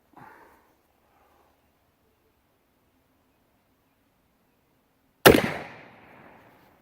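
A percussion cap-and-ball revolver fires a single shot outdoors: one sudden, loud, close crack with a short decaying tail after several seconds of near silence, plus a faint brief noise at the start.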